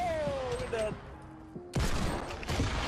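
Gunfire in the video game Fortnite arrives as a loud burst of rapid shots that breaks in partway through, following quieter in-game tones and effects.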